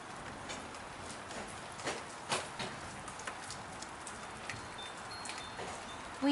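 Rain falling all day near the Sierras ahead of a thunderstorm, a soft steady patter with scattered louder drops and taps, fairly faint and unbroken, with no talking.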